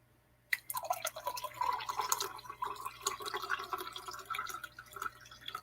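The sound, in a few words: coffee being poured to refill a cup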